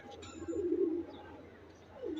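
Pigeon cooing from a large racing pigeon in moult, kept for long-distance tournaments: two soft, low rolling coos, the first longer and louder, the second brief near the end, close by over a quiet room.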